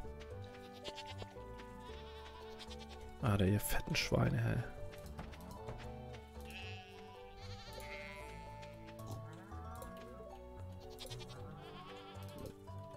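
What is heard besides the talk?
farm animals in Stardew Valley video game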